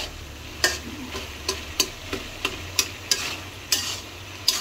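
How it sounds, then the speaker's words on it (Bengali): Smashed potatoes and tomatoes being stirred in a pan: a spoon scrapes and taps at a regular pace, about two strokes per second, over a soft low sizzle, close and fairly quiet. "এবার আমরা নেড়ে নিচ্ছি স্ম্যাশ করা আলুগুলো দিয়ে।"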